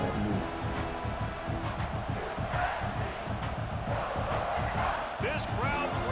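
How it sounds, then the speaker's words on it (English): A stadium crowd roars in an American football video game, a dense continuous wash of cheering held at moderate level, with commentary-style talk running over it. "This crowd bringing the energy and noise early."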